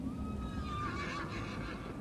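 A horse neighs in a period drama TV series, a single loud whinny lasting about a second with faint hoof movement behind.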